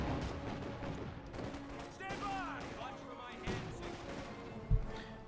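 Autocannon and coaxial machine gun fire from a Luchs armored car in Company of Heroes 2, scattered bursts and thuds under steady commentator talk, with one sharp bang near the end.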